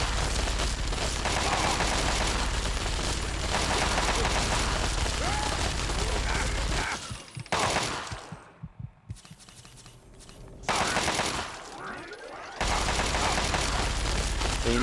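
Rapid bursts of gunfire from a powerful gun in the video game Fallout 3, with dense loud volleys broken by brief pauses and a few quieter stretches.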